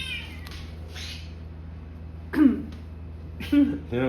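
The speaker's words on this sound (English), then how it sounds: "Just cats." Cats meow a couple of times at close range, with a throat clearing and some breathy room noise in between.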